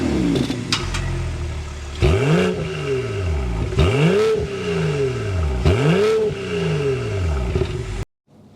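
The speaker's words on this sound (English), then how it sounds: "start it up so you can hear that exhaust note" A 2025 BMW X4 M40i's exhaust roars after start-up, with three loud rising revs that swell and fall back between blips, before cutting off abruptly.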